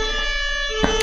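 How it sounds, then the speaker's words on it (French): An ambulance siren sounds outside, its steady wailing tones faint and muffled through the walls of an indoor room, with a brief knock or bump near the end. "désolé pour le bruit de l'ambulance"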